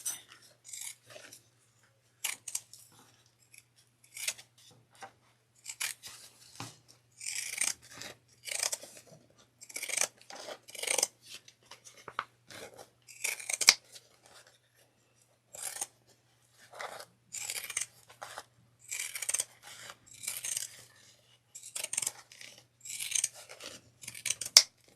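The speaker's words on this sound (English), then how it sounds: "I'm going to grab my pinking shears, and I'm going to pink all the way around" Pinking shears snip around the seam allowance of quilted fabric in quick, crisp bursts of cutting, close and fairly quiet, with short pauses between runs of strokes.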